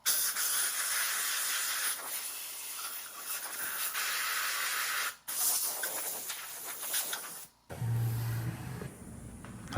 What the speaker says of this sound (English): I'm gonna hit this with some compressed air and get the rest out.